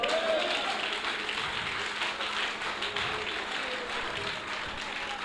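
Church congregation applauding and acclaiming the Lord during a pastor's sermon, steady dense clapping that holds throughout, moderately loud, with faint voices mixed in.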